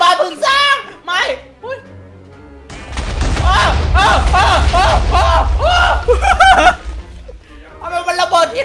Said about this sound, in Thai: เฮ้ยคีปเปอร์ไปแล้วไม่อย่าระเบิดตรงนั้น